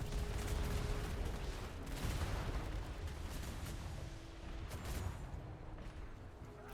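Ship cannons fire on a galleon in the naval game Atlas, a series of deep booming blasts spread over several seconds, with rumbling echoes trailing each shot.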